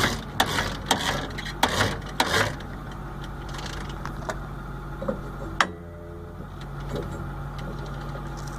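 A hose reel rewinds after its button is pressed, giving a steady mechanical ticking and ratcheting whir with a few sharper clacks early on, continuing evenly to the end.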